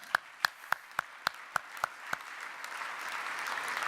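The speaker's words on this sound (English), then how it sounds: "You just give them a round of applause." At an economic summit, a few nearby hands clap in a steady rhythm of about eight sharp claps, then broader audience applause swells and continues.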